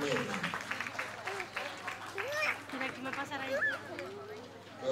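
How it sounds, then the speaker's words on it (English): An audience applauds after a children's dance performance at a school show, the clapping mixed with crowd chatter and children's voices throughout. "Round of applause."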